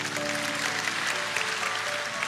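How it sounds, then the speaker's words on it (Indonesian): A church congregation at a morning prayer service gives steady applause, a soft, even wash of clapping with a faint sustained tone underneath. "kita berikan tepuk tangan untuk Tuhan"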